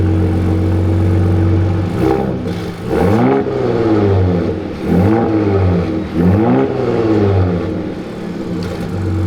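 A Gen 3 Ford Raptor 3.5L with an AWE Switch Path exhaust in normal mode revs up repeatedly, with several rising and falling swells over a loud, droning idle rumble, close and without speech.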